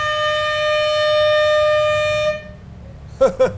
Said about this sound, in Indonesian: itu lagi tes klakson gitu kan